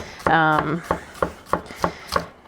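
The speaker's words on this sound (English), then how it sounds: "I'm just going to chop up a few onions into smallish pieces" A knife chops onions into small pieces on a board, sounding as about six sharp, evenly spaced thuds close to the microphone, with a brief voice near the start.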